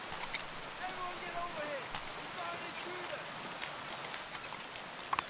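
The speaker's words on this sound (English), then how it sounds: "It's wet out here. It's raining." Rain in the medieval video game Kingdom Come Deliverance 2 falls as a steady, soft hiss of drops on the ground, with faint chirps of birds and a couple of sharp ticks near the end.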